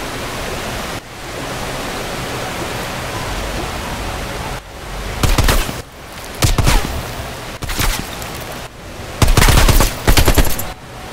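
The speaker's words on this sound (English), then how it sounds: "Somebody started shooting at me." Gunfire in Call of Duty Black Ops Cold War: loud automatic bursts break out in the second half over a constant rushing game ambience, four or five separate volleys in quick succession.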